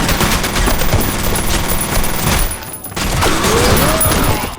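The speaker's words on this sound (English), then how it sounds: "The submachine gun is a legitimate bullet hose." A submachine gun firing in the video game F.E.A.R., heard as loud, rapid sustained bursts of close gunfire, a short pause, then another continuous stream of shots.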